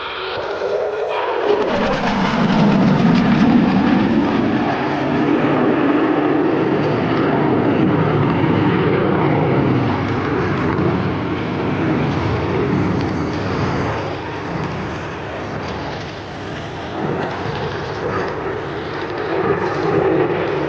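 A USAF F-16 Fighting Falcon fighter jet at maximum power gives a loud, sustained roar that swells early and then holds steady as a broad rumbling wash with no one talking.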